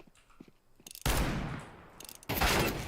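Revolver fire in a video game: two loud, sharp shots about a second apart, each with a ringing, decaying tail, after a quieter stretch of faint game sounds.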